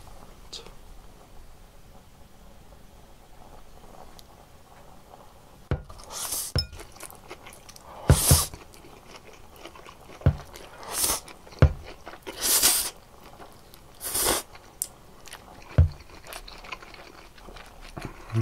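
Eating spicy fire chicken noodles with pork jowl brings close, sharp bursts of crunching and biting mixed with clinks of utensils against dishes, coming in irregular clusters after a quiet start.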